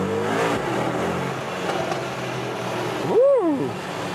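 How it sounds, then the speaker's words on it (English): A Mercedes-AMG engine with optional performance exhaust rumbles steadily, then revs sharply in a tunnel with a rising and falling roar, sounding close and slightly echoey. "This optional performance exhaust is really something."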